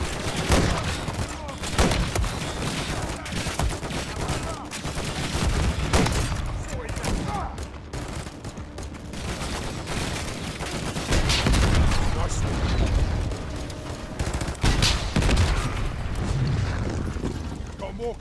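Dense, continuous gunfire and explosions from a military firefight in the Call of Duty: Modern Warfare 3 campaign, loud and sustained with bursts of automatic fire and booms, with shouted voices mixed in.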